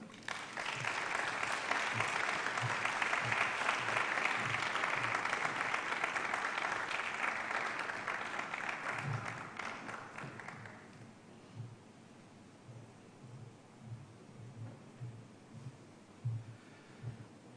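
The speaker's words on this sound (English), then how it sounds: "Another round of applause for our keynote speaker." Sustained applause from an audience at an education symposium after a keynote speech, loud and dense for about ten seconds, then tapering into scattered claps and a few thumps.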